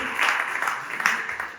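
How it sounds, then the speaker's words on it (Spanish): Church congregation clapping in a short, full burst of applause, loud and close, with a couple of swells and no talk over it. "¿Por qué no le damos un aplauso al Señor?"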